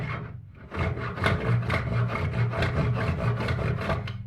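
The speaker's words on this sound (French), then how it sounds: "on va commencer par couper cette partie-là en utilisant les dents qui sont vers nous et en poussant" A veneer saw cuts thin wood veneer on push strokes: a quick run of rhythmic, raspy strokes, close and fairly loud, following a brief quiet start.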